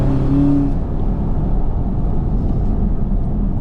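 A Dodge Scat Pack car with a 500-horsepower engine rumbles loudly and steadily up close, a deep continuous drone with a brief higher whine at the start and no voices.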